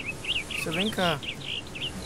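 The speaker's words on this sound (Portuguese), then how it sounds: "Olha o passarinho." A bird chirps in the Minecraft video game, repeated short, bright tweets in a steady pattern that keep going while a player speaks over them.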